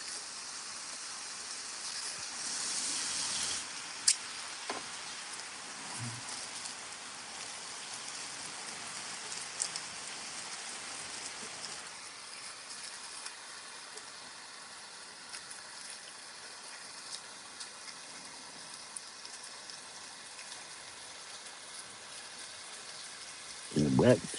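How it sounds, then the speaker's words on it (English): Heavy rain pours steadily in the Midwest, a continuous broadband hiss of drops on surfaces that holds through the whole stretch, with a few louder knocks and a brief burst near the end. "We're getting a lot of rain here in the old Midwest."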